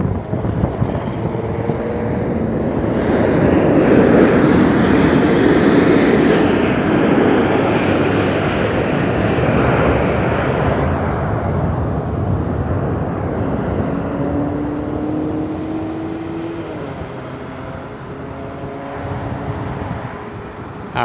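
A jet airliner on the runway at Las Vegas Harry Reid International Airport gives a loud, sustained engine roar that swells and slowly fades, with wind buffeting the microphone.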